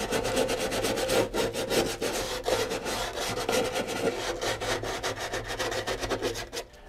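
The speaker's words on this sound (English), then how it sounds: "If you haven't sanded over the edges of your sound hole, now is the time to do that." Sandpaper worked over the edges of the sound hole in a wooden steel-string guitar top, making continuous rhythmic rasping strokes, close and fairly loud, with no voices.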